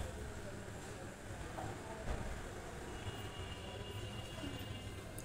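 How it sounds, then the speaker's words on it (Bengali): A metro train waits at a station platform, its steady low rumble and hum running under broad station ambience, moderately loud and continuous throughout, with faint talk mixed in. "স্টেশনে একটা মেট্রো রেল দাঁড়িয়ে আছে।"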